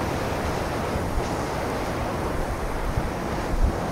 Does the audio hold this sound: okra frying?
no